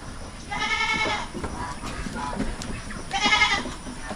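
Goats on a provincial farm bleat in two clear, nasal calls a few seconds apart, fairly close, over low outdoor background noise.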